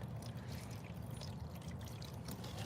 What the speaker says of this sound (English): We're gonna water these and see how they do.